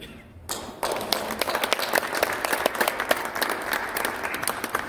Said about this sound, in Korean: 그래서 말씀을 전하러 나오실 때 여러분 박수를 한번 주셨으면